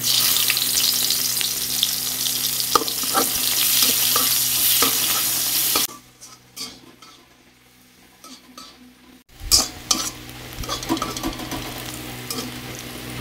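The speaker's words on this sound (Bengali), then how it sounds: "তো দেখো পেঁয়াজ আর রসুনটা ভালো করে ভেজে নিয়েছি, একটু নরম হয়ে গেছে।" Onion and garlic fry in oil with nigella seeds in a pan, a loud steady sizzle with stirring scrapes that drops away for a few seconds and then returns more faintly.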